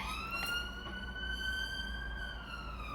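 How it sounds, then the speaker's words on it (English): An ambulance siren wails steadily as it passes nearby, its rising and falling tone heard clearly over a low background rumble. "sorry, the ambulance had to pass."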